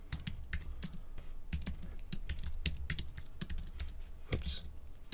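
Rapid, uneven keystrokes on a computer keyboard, typed in short bursts with brief pauses, close and clear against a low room hum.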